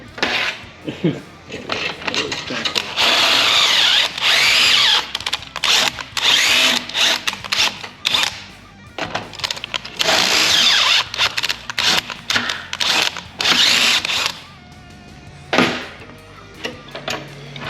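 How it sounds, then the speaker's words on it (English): A power drill whirs in repeated bursts during a car restoration, starting and stopping many times at close range, with voices talking between and over the drilling. "I have that drill set to not kill mode"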